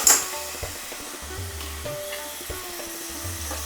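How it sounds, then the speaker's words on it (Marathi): Cloves and drained rice sizzle in hot ghee with a soft, steady frying hiss and a few light stirring sounds, with no talking. "आता आपलं हे तूप गरम झालंय. त्याच्यामध्ये आपण ह्या 4 लवंगा घालूयात की हा निथळ ठेवलेला तांदूळ घालूयात"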